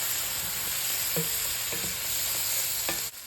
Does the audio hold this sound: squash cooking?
yes